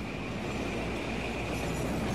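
A train rolling along in the video game Battlefield 3, a steady, loud, dense rumble of rail noise with a faint high whine, continuous throughout with no talking.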